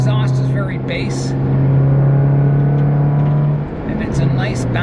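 Close, loud engine note of a 2009 Nissan Cube with a J2 stainless steel cat-back exhaust, a deep bassy hum holding steady and then dipping briefly as the throttle eases before picking back up.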